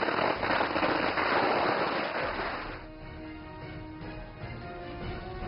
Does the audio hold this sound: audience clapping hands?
no